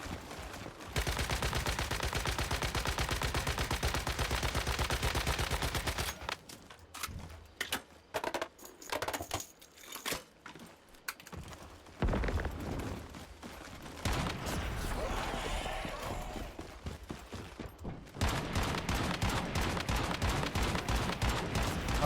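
Gunfire from a gun in a video game, sustained rapid automatic bursts that dominate at the start and end, with choppier, sparser shots and quieter gaps in the middle.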